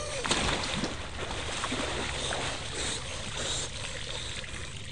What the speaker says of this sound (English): I'm gonna fully submerge myself.